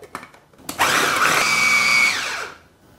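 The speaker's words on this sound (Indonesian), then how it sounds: "Kita haluskan semua bahan." A blender whirs to life after a few clicks, grinding garlic, egg and other ingredients loudly for about two seconds before spinning down.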